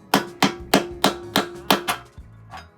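A long bolt used as a punch is struck with a hammer on a Harley-Davidson motorcycle, giving seven sharp metallic blows at a steady rhythm, loud and close, then a lighter final tap.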